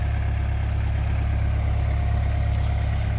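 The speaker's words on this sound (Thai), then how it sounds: "เป็นรถไถของคูโบต้าครับ" A Kubota L500 tractor idles nearby in a farm field: a steady, low, even engine rumble that continues throughout, with no voices.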